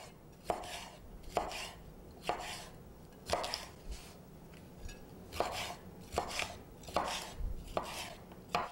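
A knife slicing a de-seeded pepper thin on a cutting board in a home kitchen: about a dozen crisp chops in an uneven rhythm, close and clear with no talking.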